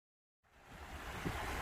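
A river at a trail crossing on the Pacific Crest Trail rushes in after near silence, a steady broadband wash of flowing water that swells slightly and stays continuous, fairly close.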